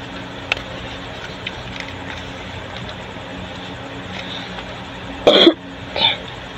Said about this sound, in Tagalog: Inuubo pa rin ako guys.